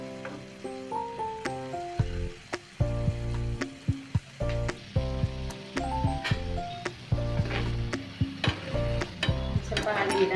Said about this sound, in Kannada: ಸ್ವಲ್ಪ ಹಾಗೆ ನಿಧಾನಕ್ಕೆ ಫ್ರೈ ಆಗಿ